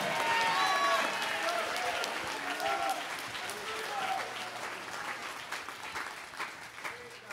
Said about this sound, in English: take 15 good seconds, clap your hands, all ye people, shout unto God with the voice of triumph.